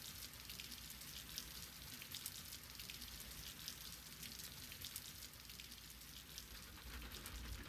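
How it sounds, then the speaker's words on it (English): Steady patter of rain against a window in the visual novel Mahoyo: Witch on the Holy Night, a soft continuous hiss of drizzle with scattered tiny droplet ticks, faint and even throughout, no voices. "He absentmindedly listened to the pattering of the window."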